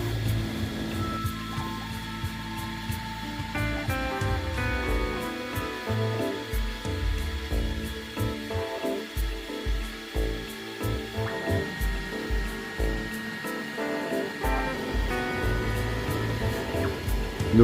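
A Bambu Lab X1 or P1 3D printer homes its print head, its motors giving a steady, close whine with stepped pitched tones that shift and hold across the whole stretch, with no speech.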